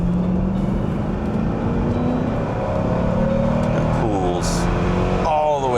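Mercedes V8 roadster engine from the 90s, the first with variable cam phasing, revving steadily toward redline, its rising pitch sweeping upward near and loud, with a voice talking over it.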